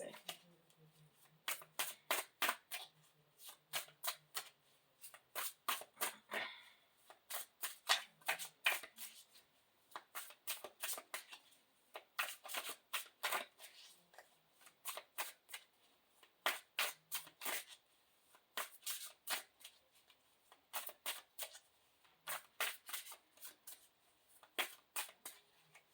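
Tarot cards are shuffled by hand in quick riffling bursts, each a crisp flurry of slaps repeated again and again with short pauses between, close and fairly quiet.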